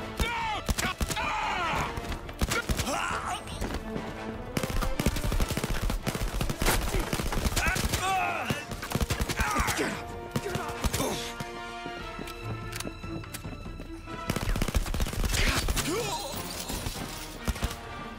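Gunfire in the video game Blood & Truth: dense, sustained volleys of shots and machine-gun bursts with crashing, shattering impacts, loud and continuous throughout, mixed with shouted speech.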